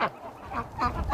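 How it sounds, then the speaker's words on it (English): Several hens in a duck flock quack in quick bursts, moderately loud and close, with overlapping calls and a low background rumble in the cold outdoors. "they're really quacking a lot today"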